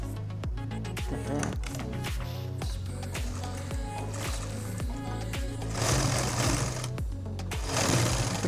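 A sewing machine runs in steady bursts of rapid stitching, sewing the neckline edge of a summer nightgown, its motor whirring close and loud with brief pauses between runs.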